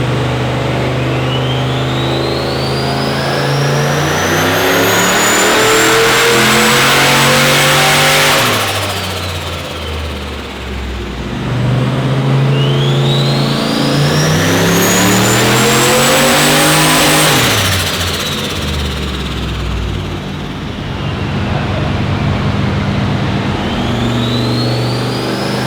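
A turbocharged LS1 V8 in a VY ute strapped down on a dyno, roaring through two long full-throttle runs, the pitch sweeping steadily upward before dropping off, with loud, close engine noise and no talking.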